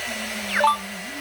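A hair dryer blows a steady, moderately loud hum with airy hiss, briefly rising in pitch near the middle and shifting tone near the end.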